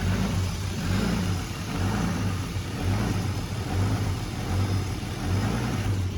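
A turbocharged BMW E36 engine idles roughly after a cold start, a steady close mechanical drone with an uneven, lumpy pulse and no voices.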